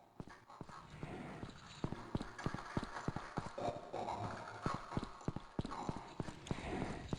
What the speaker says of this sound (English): It kind of sounds like the opposing force footstep sounds also.